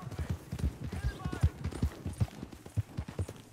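A horse in the Red Dead Redemption 2 video game trots, its hooves clip-clopping in a quick, steady rhythm close by while people talk over it.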